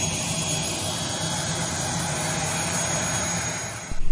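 Cabin-level roar of a Citylink passenger jet's engines on a flight from Waingapu, Sumba, a steady broadband rumble holding evenly throughout, then a brief louder surge and thump right at the end.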